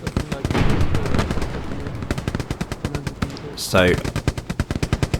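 Rapid machine-gun bursts and scattered gunfire from a World War II shooter game, Hell Let Loose, crackle continuously and loudly, with a brief swelling blast near the end and a voice speaking once.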